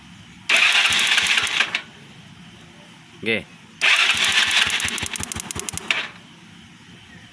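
A Yamaha Mio scooter engine with its stock ignition coil cranks in two bursts with a rapid clattering rhythm, a short whirring pause between, and a brief spoken word in the gap.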